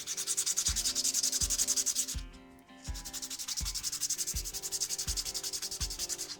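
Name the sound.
sanding with Parkside PMGS 12 D4 rotary tool, 220 grit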